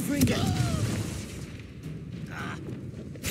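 Confringo fire spell detonating in Hogwarts Legacy, a booming burst with a crackling tail amid continuous game ambience and battle sounds, with a voice speaking over the start.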